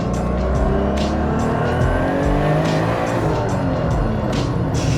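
A custom-built car with a small chassis and a roll cage revs hard, its engine roaring loud and close throughout, with rasping, surging exhaust and drivetrain strain and brief squeal-like edges.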